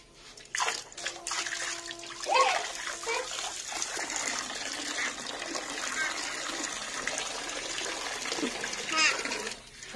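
Water splashes and pours over a small child sitting in a bath, with irregular splashes and trickling close by while voices chatter and call throughout.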